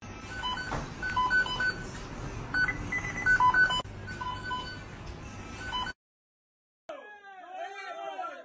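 Telephone keypad tones sound as a phone number is entered, short beeps spaced irregularly over busy background noise and voices, ending in a brief silence before a different patch of warbling sound.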